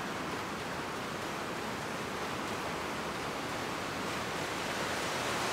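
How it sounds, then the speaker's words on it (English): Rushing water from an icy waterfall in the video game Skyrim, a steady, dense roar that stays constant and loud throughout with no break. "An ice waterfall."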